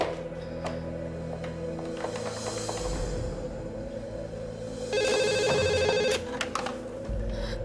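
A borrowed telephone rings in an Indonesian drama scene, a bright electronic trill that sounds clearly once over a quieter indoor background.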